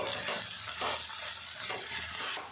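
Soybean mince stirred and fried with spices in a pan, a steady close sizzle with scraping stirs repeating across the short stretch, no voices.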